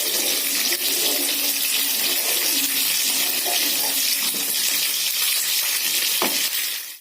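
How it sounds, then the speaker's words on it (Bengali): Drumsticks, green beans and flat beans frying together in a pan, a steady loud hiss and crackle that runs unbroken for several seconds, with no voices over it. "ডাঁটাটাও আমি এর মধ্যে দিয়ে দিয়েছি, সজনা ডাঁটা, বিনস আর সিম, 3টে আমার একসঙ্গে ভেজে নিয়েছি।"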